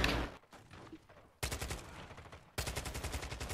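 Gunfire in a shooter video game, with rapid automatic bursts that cut in abruptly, a fading shot followed by two loud, sustained volleys of fast repeating shots, close and dominant.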